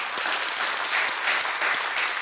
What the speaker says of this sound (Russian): Браво! Аплодисменты!